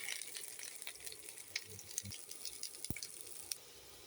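Ground ginger, cumin and chili pastes with taro frying in a pan of oil, a faint steady sizzle with occasional soft stirring clicks and a single sharp knock.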